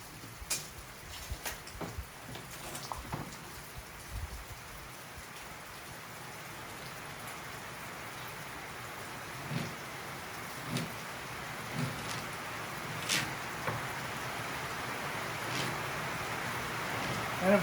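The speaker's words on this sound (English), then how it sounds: "Now it's pouring rain." Heavy rain pours steadily in a constant hiss, with occasional louder drops and taps landing nearby.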